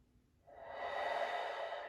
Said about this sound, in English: Continue your deep breathing.